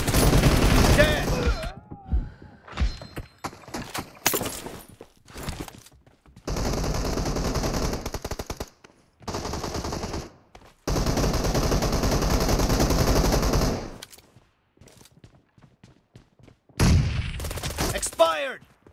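Pistol fire in a PUBG Mobile team deathmatch, with loud rapid bursts of shots cut by short pauses, some sustained volleys and a dense flurry at the start and the end.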